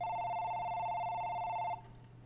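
A telephone rings in the horror video game Babylirious (The Baby in Pink): a steady, loud electronic ring tone that holds for nearly two seconds and then cuts off abruptly, with no talking.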